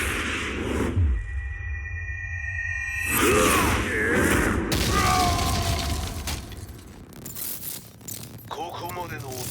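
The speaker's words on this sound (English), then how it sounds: "Explosion confirmed at the Mishima Dojo." In the Tekken 7 story mode, an explosion hits the Mishima Dojo with a deep boom and a bright, shattering burst, surrounded by other game sound effects and character voices speaking.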